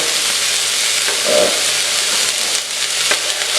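Garlic cloves sizzling in a hot pan alongside sliced shallots, a steady close hiss with a brief stir partway through and no talking.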